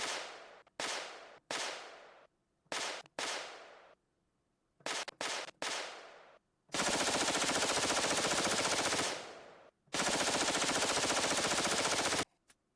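Gunshot sound effects from a Stream Deck–controlled gun display app: a run of sharp single shots, each decaying quickly, then two long bursts of rapid automatic fire, loud and without voices.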